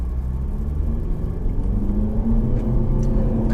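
An all-wheel-drive sports car launches from around 600 RPM in a 0-60 mph test. Its engine gives a steady, close low rumble that thickens and grows a little louder partway through, with no talk.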